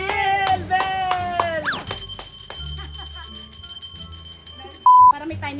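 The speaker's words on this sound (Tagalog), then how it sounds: "Bell!" A bell is struck several times in quick succession, each ring bright and briefly decaying, followed by a busy mix of crowd noise and a short electronic tone near the end.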